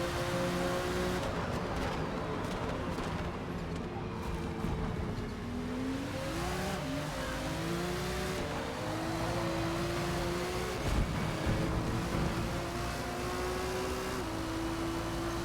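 A Honda NSX race car in Forza Motorsport drones steadily at high revs, its engine pitch climbing through each gear and dropping at the shifts over a long, even run.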